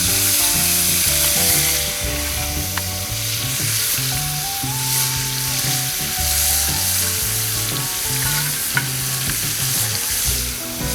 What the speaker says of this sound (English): just cook it in a little bit of lemon butter, and it seasons it as it goes